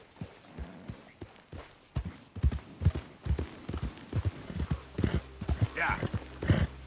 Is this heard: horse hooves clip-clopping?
yes